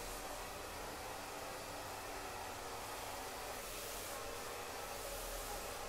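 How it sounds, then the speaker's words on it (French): A hair dryer blows steadily in a hair salon, a constant loud airy whoosh with no pauses or voices. "Malgré le bruit du séchoir"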